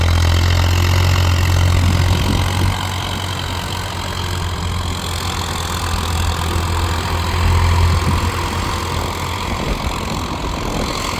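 A Farmtrac tractor, either a 60 EPI or a 45 EPI, runs with a loud, steady low diesel throb close by, after a gear change and not running as it did before. The engine drones on without a break.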